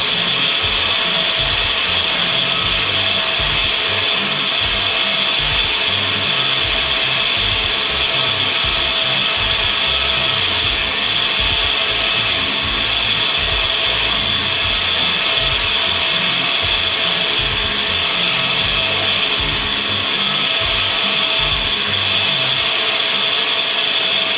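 A grinding machine works on spiral flute taps, making a loud, continuous high whine with a steady rasping grind that never lets up.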